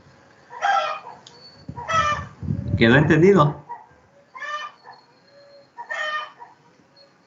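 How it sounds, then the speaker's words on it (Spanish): Chickens cluck and a rooster crows in several short, fairly loud bursts, mixed with a person speaking during an online class. "Ya empezaron las gallinas."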